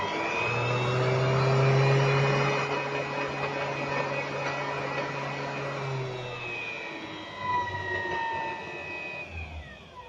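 A CNC 3018 spindle motor runs with a steady tonal whine and hum, its pitch stepping and sliding as the speed is changed, ending with a short shift near the end; no voices are heard.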